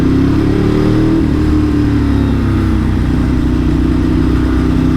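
A Ducati 1098S motorcycle with a fully rebuilt engine, giving a loud, close, continuous engine roar that holds a steady pitch throughout.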